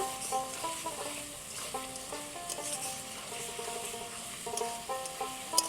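Assamese Kusia fish with potatoes sizzling steadily in a pan, with repeated stirring scrapes and clinks over a constant frying hiss, close and moderately loud, alone without talk, while a musical background plays.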